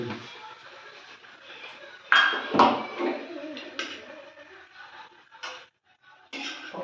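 Cooked mutton being ladled onto a plate, giving a few metallic clinks and scrapes of a spoon against dishware, fairly close and moderate in level, with talking in the background.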